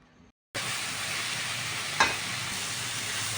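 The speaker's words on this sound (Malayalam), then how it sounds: "ഇനി ഇതിലേക്ക് ആവശ്യത്തിനുള്ള ഉപ്പ് ചേർത്ത് ഇളക്കി അടച്ച് വയ്ക്കുക." A pot of Chinese spinach dal curry cooking, with salt just added: a brief quiet moment, then a steady close sizzle and hiss, and a single sharp scrape of a stirring spoon partway through.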